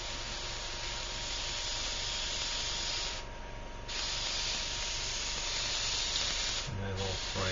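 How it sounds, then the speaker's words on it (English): Steady, fine airbrush hiss of thinned paint runs continuously, with two brief gaps where the spray cuts off before resuming. "And there's our spray coming through very nicely."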